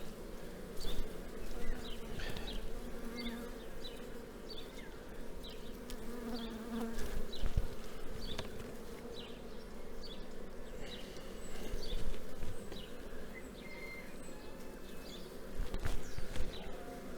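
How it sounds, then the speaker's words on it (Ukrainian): A thick, constant hum of many honey bees at a queen-rearing hive during queen-rearing season, close by, with soft knocks and faint birdsong now and then. "Тут дуже багато вже бджоли"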